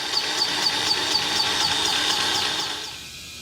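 Air hisses steadily from a tyre valve on a farm tractor trailer as inflation is checked, a broad, fairly loud rushing with faint repeated ticks over it, tapering off near the end.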